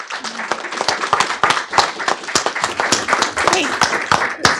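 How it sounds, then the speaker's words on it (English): An audience at a school district board meeting claps for school staff and children, lively uneven applause with cheers and voices mixed in, fairly loud and close. "One more applause for the whole group."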